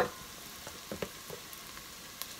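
Butter and flour cooking together in a pan for a roux, a quiet, faint sizzle with a few soft ticks and pops over a low background hiss, no voices.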